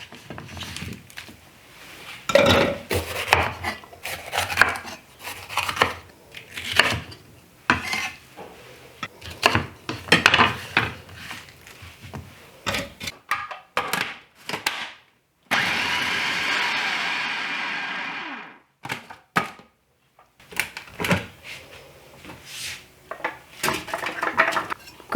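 Green pepper being rough-chopped with a knife on a cutting board for chili sauce, with sharp irregular chopping knocks coming in quick bursts and pauses, close by, broken once by a few seconds of steady whirring noise.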